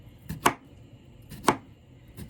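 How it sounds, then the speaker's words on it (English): A knife slices through peeled cucumbers on a board, giving three crisp, evenly spaced cuts about a second apart, close and fairly quiet, with no talking. "Now I'm going to cut it up. You just cut it in slices like that."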